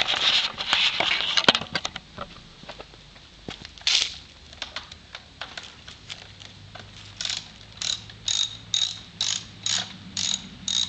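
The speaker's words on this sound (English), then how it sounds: "get your what is this? 8mm socket wrench, and you're gonna work those two out" An 8mm socket ratchet wrench loosening tail light nuts, with a run of quick clicking bursts. A steadier series of rhythmic ratchet strokes follows near the end, close and fairly loud.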